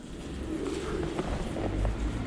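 Inside an abandoned 1920s Victorian school building, pigeons coo in low muffled tones over a rumbling background, with occasional soft thumps and flutters nearby.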